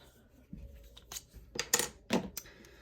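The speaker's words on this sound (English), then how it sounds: "Let me grab my scissors." A few sharp metallic clinks and rustles as scissors are lifted and handled, quiet and close, with short pauses between the handling sounds.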